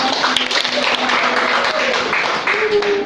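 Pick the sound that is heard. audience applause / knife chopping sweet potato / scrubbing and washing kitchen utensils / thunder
audience applause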